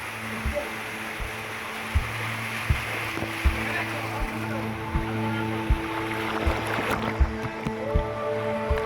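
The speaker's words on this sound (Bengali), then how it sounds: "ঝর্ণার কলধ্বনি" Water pours steadily at Kupikatakum waterfall, a cave-like pool on the Napittachora trail, giving a continuous rushing wash with a low steady hum and soft periodic knocks underneath.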